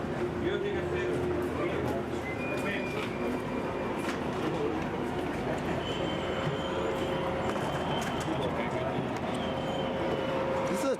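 A wheat train rumbles past continuously with faint squeals and clanks of rail cars, while people talk over the steady noise.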